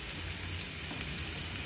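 Garlic frying in a pan, a soft, steady sizzle and crackle heard faintly at low level with no voices.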